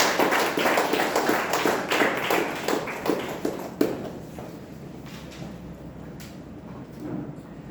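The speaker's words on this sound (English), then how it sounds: "Can we have a huge round of applause for the next speaker, Guru Prasad?" Audience applause at a Toastmasters club meeting as the next speaker is called to the stage, scattered hand claps from a modest group that thin out and fade after a few seconds.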